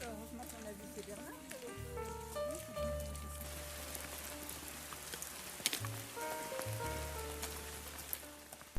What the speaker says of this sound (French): La pluie redoublant d'effet